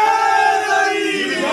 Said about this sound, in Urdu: نعرے کا جواب سارے دیا کریں